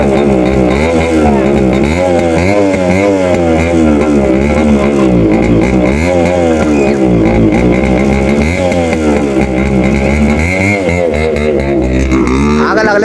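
A Yamaha RX 100 motorcycle engine runs loudly and close, its pitch rising and falling as the throttle is blipped, with a rough, sputtering idle between revs.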